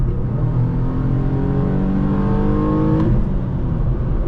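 A Ford Mustang engine revs up loudly and close, the exhaust note climbing in pitch as it accelerates, then easing off slightly.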